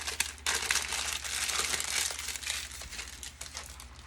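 Paper or plastic wrap crinkling and crumpling close up while portions of homemade pork lard are wrapped and the ends folded under, with dense rustles and sharp crackles throughout.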